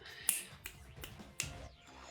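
A few sharp finger snaps, close and crisp, spaced irregularly with a faint voice in the background.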